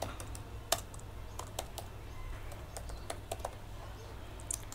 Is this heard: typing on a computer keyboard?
yes